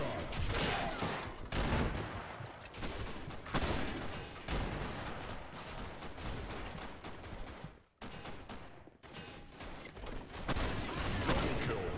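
Sustained bursts of AK47 automatic gunfire from Blackshot gameplay, loud and nearly continuous for the whole stretch, with a brief break near the middle before rapid firing resumes.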